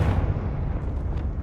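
A Confringo blasting curse goes off in Hogwarts Legacy as one heavy, rumbling explosion, loud and close, whose low roar carries on through the short moment with no voices.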